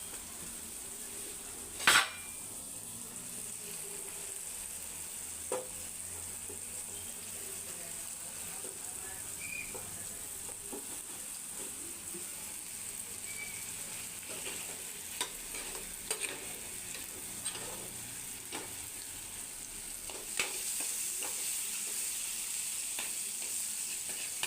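Green chillies frying in hot oil in a pan give off a soft, continuous sizzle, broken by occasional clinks and scrapes of a stirring utensil, quiet and close.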